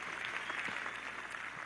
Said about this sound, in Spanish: Vamos a darle ese aplauso de una vez, pues, a nuestro presidente.